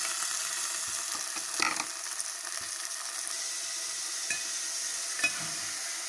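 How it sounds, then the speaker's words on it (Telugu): Tomato pieces sizzling in a pan with drumstick pieces for a curry, a steady faint frying hiss with occasional clicks and stirring scrapes, no voices. "ఇప్పుడేమో టమాటా ముక్కలు వేద్దాం."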